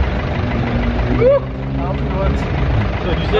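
A car engine idles and then pulls away on a roadside after a hit-and-run, the steady low rumble filling the short stretch with brief voices over it.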